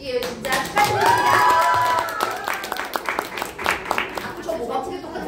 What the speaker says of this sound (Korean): 우리 이렇게까지 박수 안 칠게요.